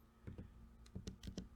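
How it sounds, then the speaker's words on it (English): Fingers tap out a few keystrokes on a computer keyboard, giving quiet, close clicks in two small clusters with a short pause between them. "I can type that in for you."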